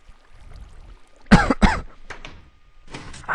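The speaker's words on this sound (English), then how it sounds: "These coughs are sneaking up on me." A person coughs and clears their throat nearby in two sharp bursts followed by a few smaller coughs in an otherwise quiet room.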